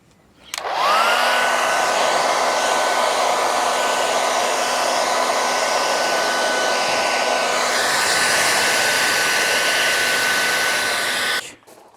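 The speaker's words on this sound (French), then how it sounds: "Donc là on va passer un petit coup de sèche-cheveux" A hair dryer blows on a carbon spoiler being fitted to a Tesla, starting abruptly and running as a loud, steady whine for about ten seconds before cutting off.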